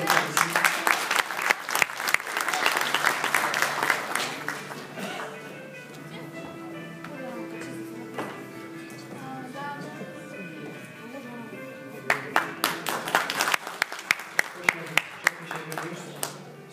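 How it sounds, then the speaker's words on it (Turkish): An audience at an evening tribute gala applauds to welcome a guest, a loud burst of clapping that fades, gives way to a speaking voice and music, then swells again near the end. "Alkışlarla aramıza alın."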